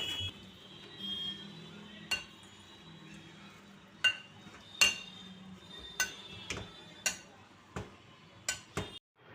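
Boiled jackfruit being mashed in a bowl for kofta, heard as a series of sharp utensil clinks and taps against the bowl, irregular and close, over a low steady kitchen hum with no talking.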